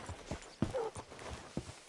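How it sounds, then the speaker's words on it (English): Horse hooves clop in Red Dead Redemption 2, a handful of separate dull thuds at a walking pace, close by, with a brief faint tonal squeal partway through. "Hitch your horse up here."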